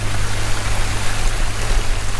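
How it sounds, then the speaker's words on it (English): Buckets being filled with clean water at a historic gold mine, a steady loud rushing and gurgling flow that runs continuously without pause, with no voices. "I'm gonna fill up my buckets with clean water right now before we start"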